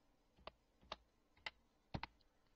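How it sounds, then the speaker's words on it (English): A password is typed on a computer keyboard, a few quiet separate key clicks followed by a quick double tap near the end, close up in a quiet room with no talking. "Just I'm typing that."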